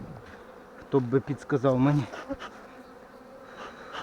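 Steady honeybee buzzing hums from a hive in the background while a person speaks briefly over it.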